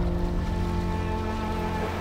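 Sea waves washing steadily along the shore, a continuous low rushing surge with no voices, close and even in level over a couple of seconds.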